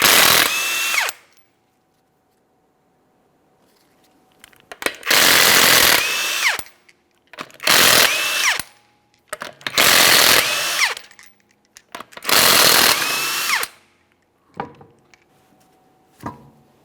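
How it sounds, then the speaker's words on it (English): A power tool removes the 21mm lug nuts from the front wheel of a 2014-2018 Mazda 3, giving five loud, close whirring bursts of one to two seconds each with quiet gaps between them. "we're going to remove all 5 of our 21mm lug nuts and that wheel"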